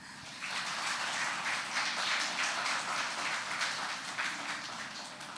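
An audience claps for the students who designed and curated a cultural program, a steady, dense wash of applause at moderate distance that continues evenly throughout.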